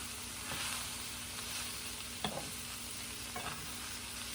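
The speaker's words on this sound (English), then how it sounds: "I had a little bit of steak left over. And I'm just going to heat that through." Leftover steak reheating in a hot pan, sizzling steadily and fairly quietly, with a few soft scraping stirs of a utensil breaking through the constant frying hiss.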